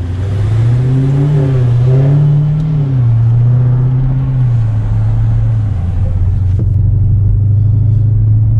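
Dodge Daytona Hellcat V8 idling and revving in steady low rumbling swells, loud and close, the engine note rising and falling for several seconds before settling into a steady idle.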